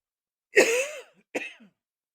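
Two close coughs, a long rough cough followed by a shorter one after a brief pause, with no talking.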